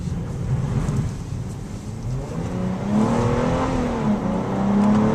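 A 2012 Hyundai Genesis Coupe making a tight, low-speed turn: a close, steady engine hum that climbs in pitch as the car pulls around, heard alone without speech.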